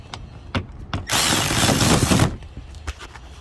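A power tool spins out a 10 mm bolt under the front fender of an Infiniti FX35 in a loud, close, steady burst of about a second, with a few sharp clicks and knocks before and after it.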